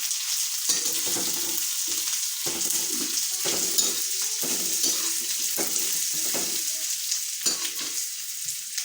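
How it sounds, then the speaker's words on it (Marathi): Stale chapati manohara mixture being stirred in a pan, a constant sizzle overlaid with repeated scraping and clattering strokes of the spoon at an irregular pace, close and steady, with no one speaking. "हे पहा, हळूहळू सर्व हलवून घ्यायचं आहे"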